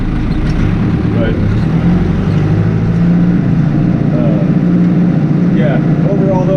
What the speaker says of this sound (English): I figured I'd take you guys along for a little bit of a tractor ride